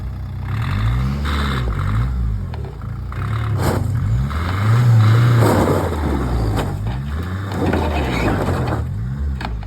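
A Land Rover engine revs hard under strain while pulling a heavy scrap load, a loud close rumble with rhythmic pulsing that swells to a peak midway and eases again, with no talking over it.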